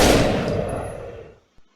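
Gunfire in the shooting game Surgical Striker, triggered with the mouse: a loud burst of shots that rolls off into a fading tail, then one short, quieter shot near the end.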